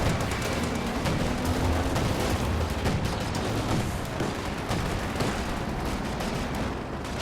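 Combat in Company of Heroes 2, with bazooka and Sherman tank fire against a dense, continuous battle din of overlapping shots and blasts, steady and loud throughout.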